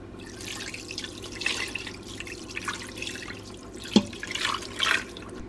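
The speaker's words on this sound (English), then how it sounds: "I'm going to pour my mixture down on it, which is a cup of water, 3/4 cup chicken broth, 3 tablespoons of soy sauce, and an onion soup packet" A mixture of water, chicken broth, soy sauce and onion soup mix is poured into a pot at home, making a soft, steady trickle with light dripping and one brief clink partway through.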